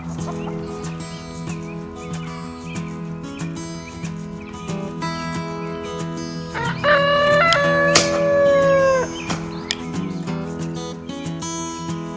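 Chickens cluck busily around a farmyard while a rooster lets out a loud, drawn-out crow midway, with other birds chirping in the background.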